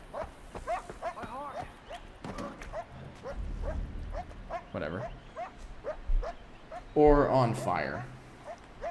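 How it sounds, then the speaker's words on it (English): Distant dog barking repeats in a steady, rhythmic series of short yips, partly under someone talking nearby, with a louder burst of voice and noise toward the end. "There's a dog just sitting somewhere barking."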